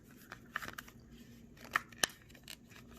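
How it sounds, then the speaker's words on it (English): A two-part rubberized case for an iPhone SE 2020 being peeled apart, heard as faint, close, scattered crackling and snapping with a few sharper peeling snaps, no talking. "Peel it off from the bottom just like that."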